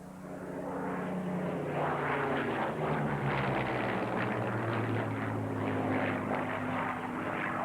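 A Lancaster bomber flies past with a Spitfire and a Hurricane, six Rolls-Royce Merlin piston engines together making a loud, continuous propeller drone that holds steady throughout.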